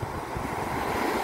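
Ocean waves break and wash along a rocky shore where people wade out gathering mussels, a steady rushing surf with wind noise over the microphone, close and continuous, with no voices.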